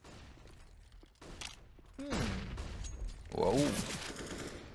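Bursts of AUG rifle gunfire in a professional CS:GO match on Nuke, a rapid cluster of sharp shots mid-clip with further firing later, heard beneath excited commentary and a shouted exclamation.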